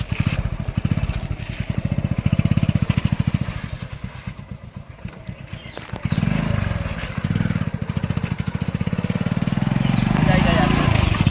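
A motorcycle engine putters and throbs close by, revving up after a brief dip, with people talking over it.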